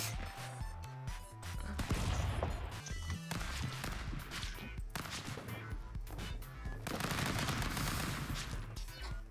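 Rapid bursts of video game gunfire, loud and close, with repeated sharp shots and dense volleys, some crashing impacts, and a brief pause before the firing picks up again.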